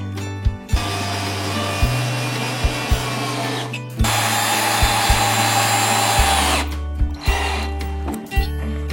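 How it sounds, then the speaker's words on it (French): A power screwdriver drives screws through recycled pallet slats into a wooden bench, with repeated whining bursts of varying length and sharp clicks between them, close and loud. "on va venir visser"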